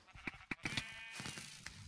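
Blocky sheep in the Minecraft video game bleat several times in quick succession, short nasal calls close by, with a brief electronic tone and game noises between them.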